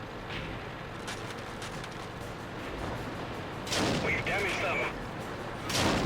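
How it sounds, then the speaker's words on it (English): A video game battle gives steady rumbling background gunfire and explosions, with a few louder blasts near the end and speech present. "He misses his shot, and I have to fire at him several times before he's even close to done."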